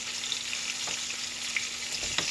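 Pieces of liver frying in a pan, a steady close sizzle with a few soft clinks and stirs, no voices over it.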